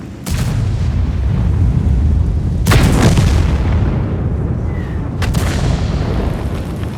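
Tank cannon fire in World of Tanks: three sharp, loud blasts spaced a few seconds apart, each cracking over a steady low engine rumble.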